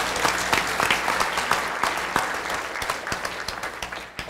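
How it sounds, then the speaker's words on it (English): A room full of people applauding steadily at a presentation, a dense patter of clapping that softens slightly toward the end. "So we can give the Bishaws one more round of applause."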